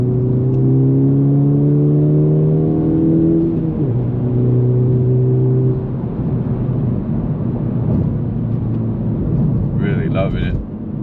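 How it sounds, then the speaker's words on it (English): Honda Civic Type R FL5 with an AWE Touring exhaust accelerating on a wet road, a close engine and exhaust note rising in pitch through the gears, with a voice speaking over it. "AWE exhaust, baby."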